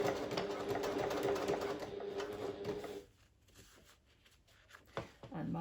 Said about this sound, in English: So I'll be sewing it with a 1/2 centimeter or 3/16 inch roughly seam allowance here.